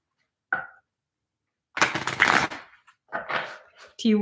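A thick deck of tarot cards is shuffled in short riffling bursts, close by, with someone talking between the shuffles.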